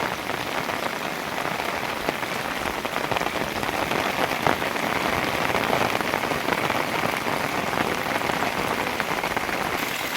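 Unseasonal heavy rain falls on Shedhakhai village in Bhanvad taluka, Devbhumi Dwarka, a thick, constant roar of close raindrops pattering on surfaces, uniform and loud from start to finish.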